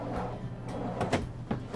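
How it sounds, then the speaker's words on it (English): A soft-close kitchen drawer in a 2021 Newmar New Aire 3543 motorhome slides shut, a short soft rumble followed by a couple of muted thuds as it pulls itself closed, near and quiet. "These are all soft touch, so you just get them close and they'll pull themselves back in."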